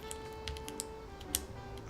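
Typing on a TB-65F custom keyboard with a copper plate: scattered quiet clacky keystrokes in an uneven rhythm, faint and close, over a low steady background hum.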